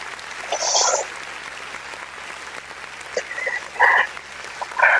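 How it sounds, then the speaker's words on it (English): An audience at a live community show greeting an introduced performer, with scattered bursts of clapping and whooping cheers rising and fading over several seconds against a quiet background. "And the crowd goes wild."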